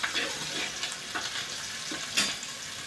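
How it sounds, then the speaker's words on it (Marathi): Chopped onion with green chillies sautéing in a pan on a high gas flame, a soft steady sizzle broken by occasional scraping stirs. "कांदा मध्ये मध्ये परतत राहायचा आहे"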